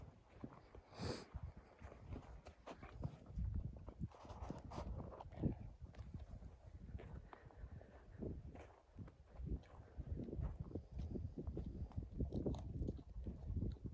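Mares walk nearby, their hooves clip-clopping in an uneven, continuous rhythm with occasional soft chewing sounds and no talking.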